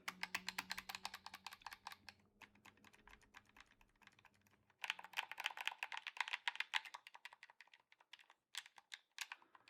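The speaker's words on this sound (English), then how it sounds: "I'll give you guys a button click test very quick." Rapid bursts of crisp plastic clicks from the buttons and D-pad of a PowerA Spectra controller with paddles and RGB lighting, pressed in quick irregular flurries, with a brief pause near the middle and no talking.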